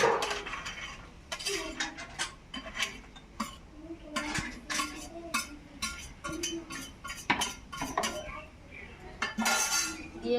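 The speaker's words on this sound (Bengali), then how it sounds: "ভেজে রাখা বড়ি, করলা, বেগুন সেগুলো এর মধ্যে দিয়ে দেবো" Fried bori, bitter gourd and eggplant go into a pot of shukto, with a dense run of close clinks, scrapes and clatter of a metal spoon and vessel, steady and busy throughout, no talking.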